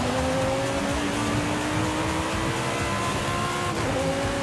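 A Jaguar CX-75 drives in Forza Horizon 5, its engine holding a loud, steady drone with a slowly rising pitch. There is a brief dip and shift near the end, with faint tyre noise underneath.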